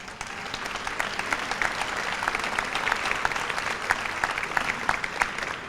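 A school academic recognition audience applauds honoured students, a dense, continuous patter of many hands clapping at an even, fairly loud level for several seconds.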